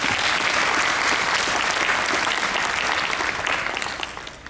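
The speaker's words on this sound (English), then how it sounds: "Could you all give yourselves a round of applause?" A conference audience breaks into loud, sustained applause with dense clapping that fills the room. It holds steady for several seconds and then begins to thin out near the end.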